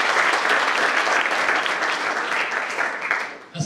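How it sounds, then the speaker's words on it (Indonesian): Students and guests in a Christian high school hall clap together during a visit from the NTT governor, a thick, even roar of applause that fades slightly before cutting off near the end. "Kita berikan tepuk tangan buat"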